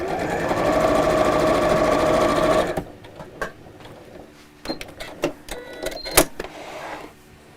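A sewing machine stitches straight across the top seam in one continuous run of close whirring, then falls quiet to scattered clicks and small handling taps as the fabric is moved.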